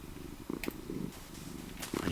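A cat in Minecraft purrs in a low, steady rumble with a few brief louder pulses, heard close over faint background game sound.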